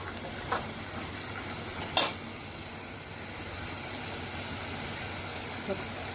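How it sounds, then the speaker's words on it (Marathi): Vegetables for a spicy chana dal curry with potato and drumstick pods sizzle steadily in a pan over a high gas flame, with a couple of brief scraping stirs standing out against the constant frying hiss. "थोडंसं मी मोठा गॅस केलं आहे व्यवस्थित परतून घ्यायचं"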